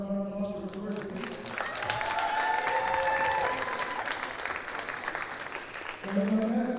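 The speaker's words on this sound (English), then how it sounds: "Let's give it up for a round of applause for Victoria, please." Crowd applause and cheering for a player at a girls high school basketball senior night in a gym, sustained and fairly loud throughout, with an announcer's voice over it at the start and end.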